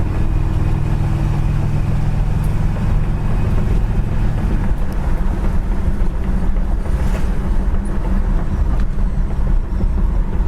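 A 1964 Chevy Impala Super Sport with a Powerglide transmission rolls into a corner, its engine drone and road rumble steady and loud from inside the cabin, mixed with wind buffeting and no talking.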